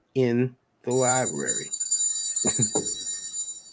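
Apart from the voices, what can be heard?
phone ringing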